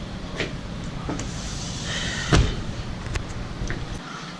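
A locked car door is tried, with mechanical clunks and a sharp latch pull over a steady background hum, then a few lighter clicks.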